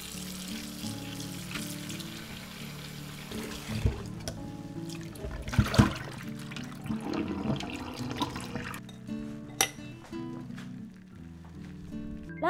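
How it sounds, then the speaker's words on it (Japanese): Ramen noodles being rinsed by hand in lukewarm water in a school lunch kitchen, a steady close watery swishing and splashing with a few louder sloshes midway, no voices. "3回ぐらいお水を変えて、この時に冷たいお水で洗ってしまうと麺が固まってしまうので必ずぬるま湯で洗います"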